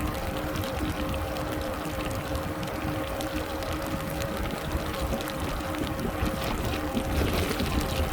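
Steady roar of wind buffeting the microphone while riding a Lectric XP e-bike in the rain, loud and constant for the whole stretch with no speech.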